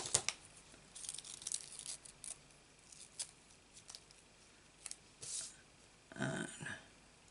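Scissors snip through an old paper craft strip with soft, close, scattered cuts and rustles, quiet and spread across several seconds.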